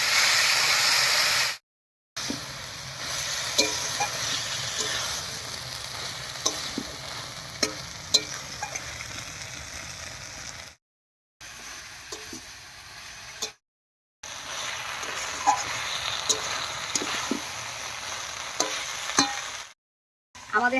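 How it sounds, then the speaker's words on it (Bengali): Vegetables tossed and stirred in hot oil with fried tempering spices for a home-style Bengali hand-mixed non-vegetarian sabji, steady sizzling and frying with repeated spatula scrapes and stirring clatter, close and continuous apart from a few brief silent breaks. "এবার ফোড়নের সঙ্গে খুব ভালো করে মিশিয়ে নিচ্ছি"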